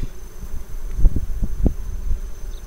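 Honeybees buzz steadily around an open hive frame of Carniolan bees, a low continuous hum that swells and fades, with a few sharper close passes and light handling noises.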